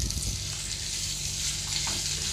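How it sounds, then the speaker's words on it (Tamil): Three onions sauté in oil in a kadai for paneer butter masala, a dense, steady sizzle heard close and loud for a couple of seconds with no talking. "நல்லா அதை வதக்கிக்கோங்க."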